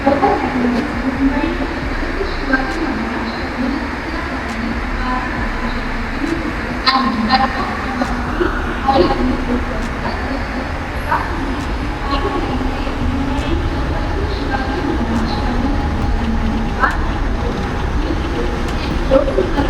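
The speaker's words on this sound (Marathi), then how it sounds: "तर आपली ट्रेन आलेली आता 10:50." A Mumbai local train pulls into Belapur station, a steady, close rumble of wheels and carriages filling the platform for the whole stretch, with bird calls and scattered crowd murmur mixed in.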